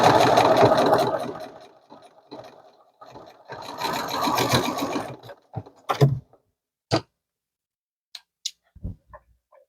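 A sewing machine stitches a fabric seam on a toiletries bag in two close bursts of rapid whirring, then stops, followed by scattered clicks and handling knocks, no talk.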